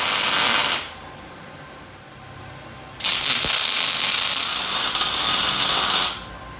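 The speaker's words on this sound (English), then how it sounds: "So now I'm going to clamp it up and finish weld all in here" A portable bandsaw vertical stand's table assembly is finish welded, producing two steady bursts of harsh crackling hiss, one short and one about three seconds long, separated by a quiet pause.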